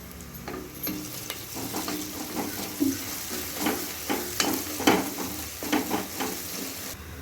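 Ginger garlic paste sizzles in a pan over frying onions while preparing veg plain kushka. A steady close sizzle runs throughout, broken by repeated scraping stirs and spatula knocks, with no talking.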